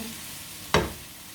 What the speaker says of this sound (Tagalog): Then, pagsamahin na i-gisa.